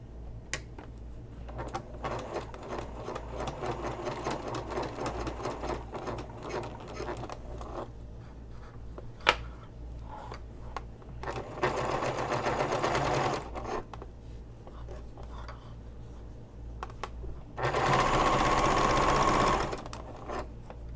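A sewing machine top stitches a messenger bag toward the pocket, giving rapid mechanical chatter in several bursts of varying length with short pauses between, fairly close and clear, with no speech over it.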